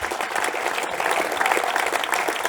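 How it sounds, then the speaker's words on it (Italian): An indoor audience at the Premio Navicella Sardegna 2022 award event gives the prize jury a dense, steady round of clapping at moderate volume. "vi chiedo anche un applauso per la giuria del premio Navicella, Franco Cucureddu."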